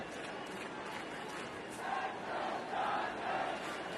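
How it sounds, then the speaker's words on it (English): Dodger Stadium crowd during an NLCS playoff baseball game against the Braves, a distant sustained wash of cheering and shouting that swells slightly midway, heard alone without commentary. "It's Dodger Stadium crowd. They're trying."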